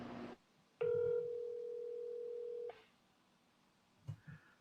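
A single steady telephone tone, loud and continuous for about two seconds, comes while a call is being placed; short muffled handling noises come before and after it.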